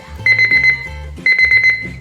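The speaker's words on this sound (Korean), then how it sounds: "시간이 다 되면 알람이 울립니다." A magnetic classroom countdown timer sounds its alarm as time runs out: two bursts of rapid, bright electronic beeping, each a quick run of chirps, loud and close, with no speech.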